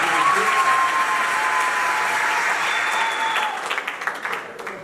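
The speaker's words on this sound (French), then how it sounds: "Veuillez acclamer pour ce soir." Wedding guests applaud steadily at a French-language ceremony, dense clapping with some cheering that thins into scattered claps near the end.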